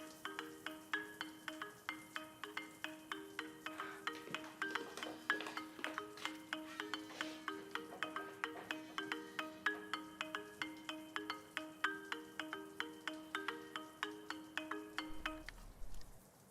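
A phone ringtone plays a repeating melodic pattern at moderate volume for about fifteen seconds, then cuts off abruptly.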